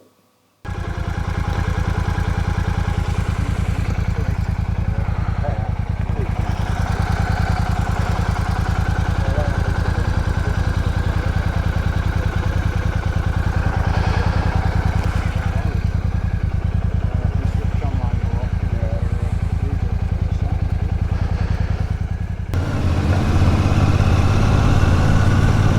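A motorcycle rides out on the open road, its engine droning steadily and loudly with wind rush for about twenty seconds, the tone shifting briefly near the end.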